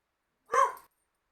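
A single short dog bark, close and fairly loud, standing alone against silence with no talking.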